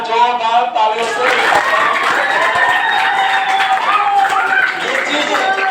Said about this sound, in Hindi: आप लोग एक बार जोरदार तालियों से